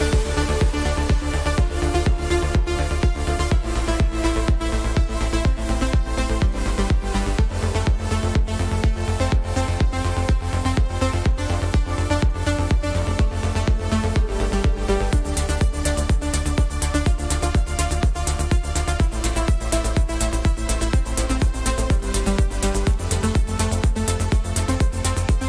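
An electronic track plays steadily and loud, with a driving four-on-the-floor kick, layered synth chords and bright high-end percussion continuing without pause throughout.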